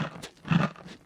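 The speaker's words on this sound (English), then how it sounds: "By chewing it. Thoroughly." Food being chewed thoroughly in a children's explanatory piece about digestion, heard as a short burst of close, moist crunching and mashing bites lasting about a second with no voices.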